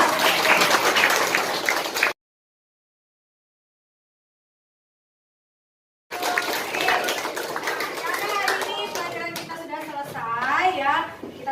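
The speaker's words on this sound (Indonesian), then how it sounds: "beri tepuk tangan lagi buat Rafa" Elementary students in a classroom applaud a classmate's group, a busy burst of clapping that breaks off, then returns beneath a teacher's voice and children's chatter.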